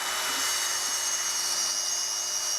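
A diamond core drill bit grinds through material to open a hole, giving a steady, even, hissing abrasive whine at moderate loudness with no voices.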